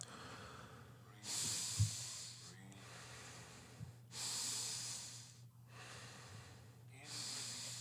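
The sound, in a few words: breathing out during a guided breathing exercise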